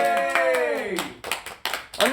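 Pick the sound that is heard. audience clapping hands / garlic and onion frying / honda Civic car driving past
audience clapping hands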